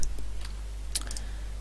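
Typing on a Natec Gaming backlit keyboard, a few sparse light key clicks, close but soft, over a steady low electrical hum.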